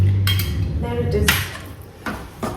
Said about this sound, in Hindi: इसको अच्छे से मिक्स करना है